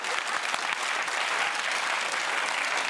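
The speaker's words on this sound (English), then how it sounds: "the applause was deeply patronising" Studio audience at a comedy panel show applauds, a dense, loud, unbroken burst of clapping from many hands lasting throughout.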